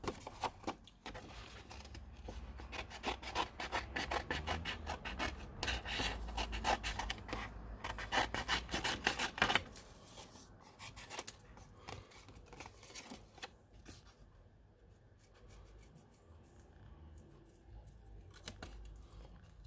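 Scissors snip out colored stamped paper pieces in a quick run of close, crisp cuts, then slow to sparser snips and rustling paper.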